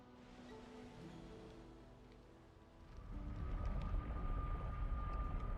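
Rain falls in the video game Valheim as a soft, steady hiss that grows denser and louder partway through, faint and continuous with no voices.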